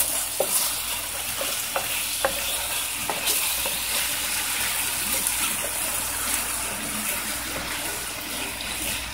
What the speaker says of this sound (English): I have celery, I have green sweet pepper, I have some mini yellow sweet pepper, and we're just adding that to the pot at this point.